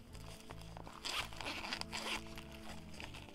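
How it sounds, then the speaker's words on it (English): A zipper on a Coach patent leather bag is drawn in several quick rasping pulls, close and crisp, with short pauses between strokes and no voices over it. "It has a zipper right here."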